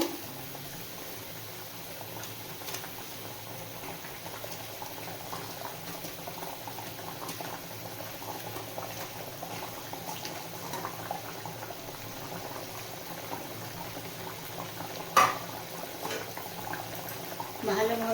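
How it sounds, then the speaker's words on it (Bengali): Soyabean kofta curry gravy simmering at a steady low bubble in a pot, a soft continuous burble with a few louder pops near the end. "এবার ফুটতে দেব"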